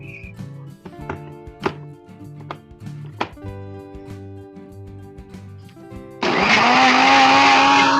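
A kitchen mixer grinder switches on to grind chillies with water for buttermilk soda, a loud steady whirring roar that takes over abruptly after a quiet stretch of soft clicks and knocks.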